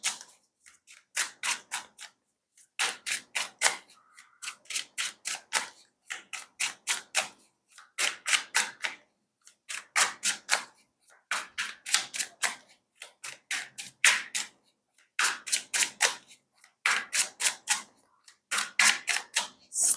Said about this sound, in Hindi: शुरू करते हैं आपके लिए कार्ड्स को शफल करना